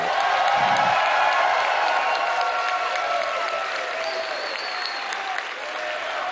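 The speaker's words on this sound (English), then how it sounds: "Please give a big round of applause for MKLeo." Loud, sustained applause from a large crowd at a Super Smash Bros. esports tournament, steady clapping filling the whole stretch with scattered whoops and a faint voice in the background.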